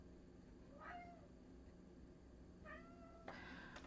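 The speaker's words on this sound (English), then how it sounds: "Oh, sorry about the cat." A cat meows indoors, two short, quiet mews a couple of seconds apart against a low background hum, followed by a brief rustling noise.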